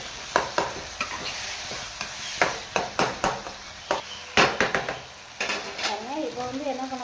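A spoon scrapes and knocks repeatedly through a tomato mixture for egg gravy in a sizzling pan, a quick run of sharp stirring clicks close by over a steady fry.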